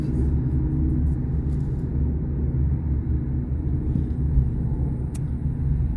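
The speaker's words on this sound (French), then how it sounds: "Accélère maintenant." Car engine accelerating during a driving lesson, a steady low rumble that stays fairly constant and moderately loud from inside the car, with no talking.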